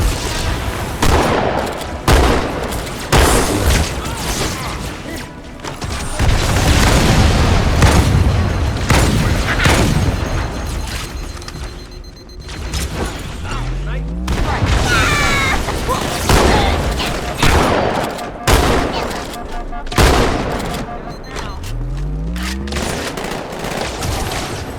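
Halo 2 combat erupts with a grenade blast and repeated booming explosions over sustained bursts of gunfire, loud and dense throughout with short calls between the shots.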